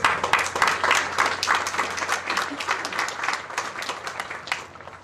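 Audience at the 2022 Endicott College undergraduate commencement applauds after student speakers, a dense sustained wash of clapping from a large crowd that stays steady for about five seconds before easing off slightly.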